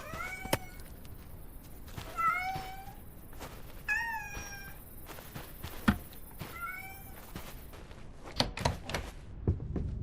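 Several short, rising-and-falling cat meows spaced a second or two apart, fairly close, with scattered thumps and clatter in between and toward the end.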